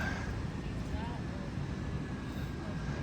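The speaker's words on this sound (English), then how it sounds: "You hear a plane landing over there." Distant aircraft rumble at a small airport as a plane comes in to land, a steady broad drone sitting under outdoor ambience while people talk nearby.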